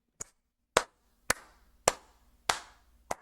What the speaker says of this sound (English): like a slow clap as he like starts going